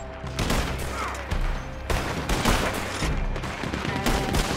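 Dense rapid gunfire fills a video game shootout against a wagon and gunmen, with overlapping bursts and volleys running continuously at close range.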